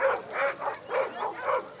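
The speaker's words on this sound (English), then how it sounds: "Good boy, Ryan. Good dog" A search dog on a rubble search gives four short, evenly spaced whimpering yips, close and fairly soft, with no other sound around them.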